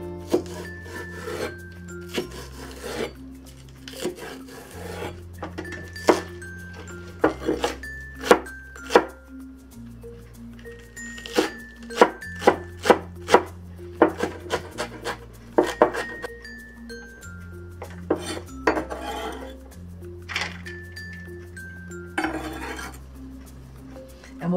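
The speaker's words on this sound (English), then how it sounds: "And we'll also mince the green onion." A knife minces green onion on a cutting board, producing rapid, close, irregular chopping taps and scraping in bursts, with music playing underneath throughout.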